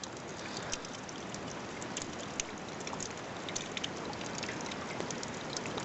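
Steady rain falls outside a bothy door in the Scottish Highlands, a dense, even hiss of drops striking the ground and surfaces, with occasional louder individual splashes and no voices.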